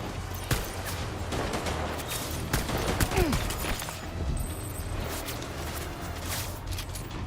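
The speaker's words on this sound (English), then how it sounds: "Chuck a grenade over there." In the video game Death Stranding, a grenade and gunfire make a dense, constant rattle of shots and impacts, with a brief falling tone near the middle.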